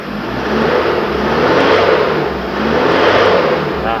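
An Isuzu D-Max pickup engine revs after being repaired for a no-start fuel supply fault, two swelling bursts of revving rising and falling over a steady idle, loud and close without talking.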